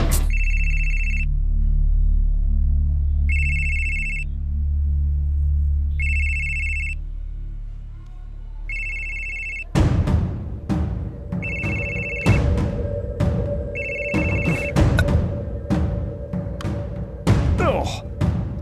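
A telephone rings with a repeating electronic ringtone, bursts of bright beeps separated by pauses; partway through, sharp percussive hits and a busier background join while the ringing continues.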